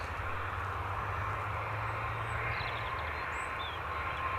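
An airliner departs Bristol Airport for Grenoble, its jet engines giving a steady, broad roar that holds constant throughout, heard from a distance with a low rumble underneath and no voices.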